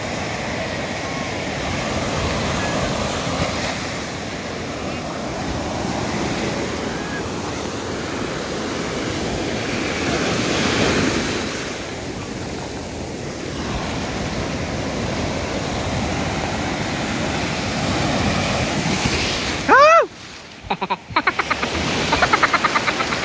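Surf breaking steadily on a beach shoreline in Lingayen or La Union, a broad continuous wash with wind buffeting the microphone, swelling around the middle and ending with a brief clattering handling noise.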